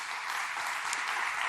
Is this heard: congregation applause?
yes